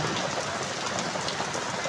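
A heavy rainstorm drums down in a constant, close, full-bodied hiss over a brief stretch, steady and alone without speech.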